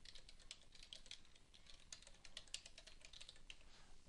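Fingers tap rapidly on a computer keyboard, a quiet, continuous run of clicky keystrokes close up, with no voice over it.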